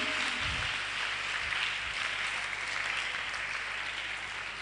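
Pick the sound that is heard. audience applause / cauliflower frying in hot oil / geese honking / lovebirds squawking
audience applause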